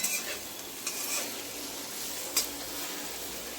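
Fried pumpkin greens crackle softly in a pan as they are lifted out, with a faint, steady sizzle and a few light clinks of a utensil against metal.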